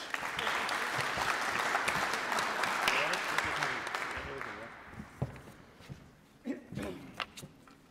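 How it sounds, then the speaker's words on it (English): Audience applause at an agri-food debate semi-final rolls on for about four seconds, a dense steady clapping that thins into scattered claps and a few louder knocks near the end. "A round of applause."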